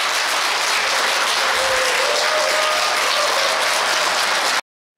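Applause from a studio audience thanking two guests at the end of a stock market broadcast; dense, steady clapping from many hands that cuts off abruptly near the end.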